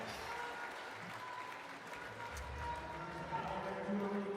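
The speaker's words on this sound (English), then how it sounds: "Now the crowd is going wild." Spectators at an IFSC European Continental Cup climbing competition in Loverval, Belgium, applaud and cheer a home favourite, a steady dense roar of clapping that swells louder toward the end, with commentators talking over it.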